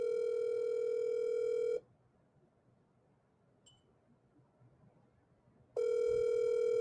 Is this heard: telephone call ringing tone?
yes